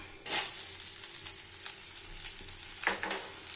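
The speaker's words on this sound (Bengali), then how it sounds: "তো আমি তেলের মধ্যে এখন দিয়ে দেবো পেঁয়াজ কোচানোটা" Chopped onion drops into hot oil with a sudden loud sizzle burst, then settles into a softer, continuous frying hiss. A second clattering flare of sizzle comes near the end.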